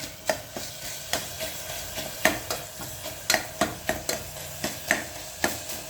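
Tomatoes sautéing for thakkali soru, stirred with a ladle: a soft sizzle underlies a run of sharp, regular scraping knocks of the ladle against the pan, roughly two per second, close and distinct, with no talk.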